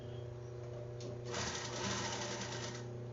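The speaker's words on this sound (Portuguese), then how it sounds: "E vão costurar, acompanhando aqui a parte do bojo" A sewing machine stitches along the cup of a bikini top, a steady close mechanical whir that swells louder midway and keeps running to the end, with no talk.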